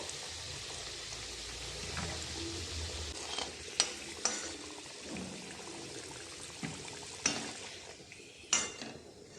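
Potatoes frying in oil with salt and turmeric in a pan, a soft steady sizzle under sharp clinks of a utensil on metal as they are stirred and lifted out.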